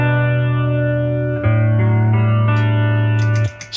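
Guitar run through a Corona Chorus pedal with a chorus effect, sustained notes and a held chord ringing with a wavering, shimmering modulation, loud and close, ending with a few quick muted strums.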